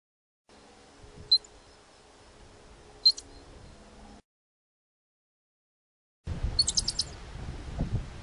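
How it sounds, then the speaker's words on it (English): Ground squirrel warning calls: short, high, sharp chirps, a couple spaced apart over faint background, then a quick burst of several chirps against louder wind-like noise. "a lookout squirrel will prop up and make warning sounds to others in the area."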